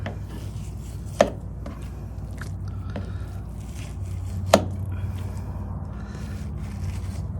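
A knife trims fat off a brisket on a cutting board, with two sharp chopping knocks against the board amid quiet scraping and soft handling sounds.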